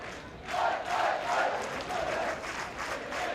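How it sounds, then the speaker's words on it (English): A capacity crowd at Kingsmeadow during a Chelsea versus Manchester City women's football match swells in a steady, distant roar, rising and falling in waves with cheers and shouts but no clear commentary over it. "another capacity crowd inside Kingsmeadow for this game"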